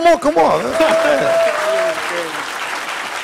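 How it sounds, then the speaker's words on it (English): A burst of audience applause and cheering after a film screening fills the clip, loud and sustained before tapering slightly, with voices mixed into the crowd noise. "give him a round of applause"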